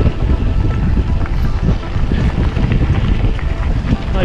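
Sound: strong wind while cycling into a headwind

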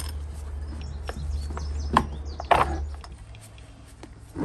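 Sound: tightening bolts on a Suzuki GSXR

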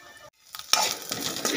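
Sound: fennel and turmeric frying in pan for poha

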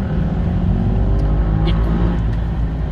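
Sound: loud motorcycle passing by

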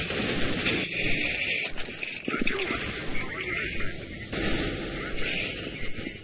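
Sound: gunfire from an automatic weapon in Counter-Strike: Global Offensive video game

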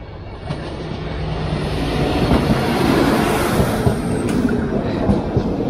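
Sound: train passing a level crossing

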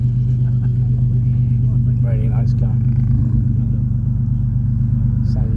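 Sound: Ford Capri 2.8 injection V6 engine running

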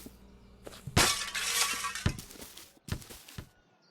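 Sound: window glass breaking in video game Hello Neighbor

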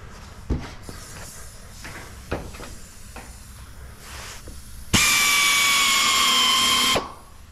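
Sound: power drill driving self-tapping screws into hay trailer frame

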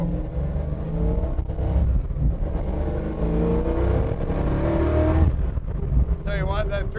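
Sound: 1968 Ford Mustang Fastback 351 engine revving, accelerating

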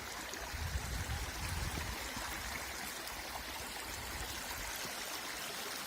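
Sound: clear stream water flowing

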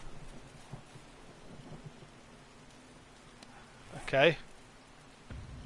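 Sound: rain and thunder in the video game 7 Days to Die

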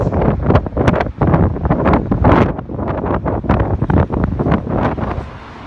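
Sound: strong wind at the beach

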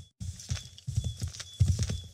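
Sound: horse hooves and neighing in Assassin's Creed 3 video game

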